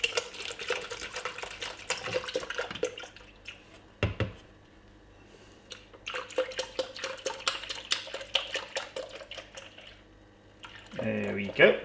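Milk is poured out of a carton, giving a run of drips, glugs and liquid splashes with short pauses, ending in a louder burst of sloshing.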